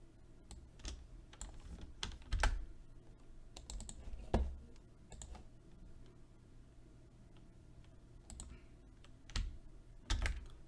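Typing on a computer keyboard, close, quiet clusters of key clicks in short irregular bursts with brief pauses between them.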